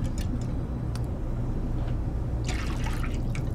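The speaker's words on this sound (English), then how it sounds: "my milk's starting to simmer, so I'm going to pour this in, and you're going to let it come to just a gentle boil." A mixture is poured into simmering milk for a queso dip, giving soft liquid drips and a brief splashy pour over a low stovetop hum, quiet and close with no talking.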